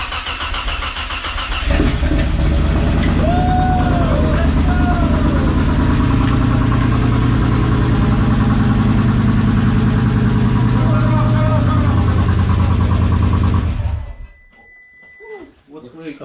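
A 500-horsepower Mitsubishi VR4 engine catches on its first start after cranking, then runs with a loud, steady, slightly rough idle close by, with voices talking over it before it cuts off abruptly near the end.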